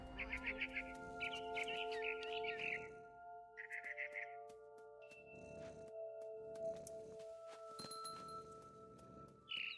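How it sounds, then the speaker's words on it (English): A barn swallow in the game What Remains of Edith Finch gives several quick bursts of bright chirps, clustered early and again briefly, over sustained soft musical tones. "I heard chirping outside my window. It was a barn swallow going back to her nest."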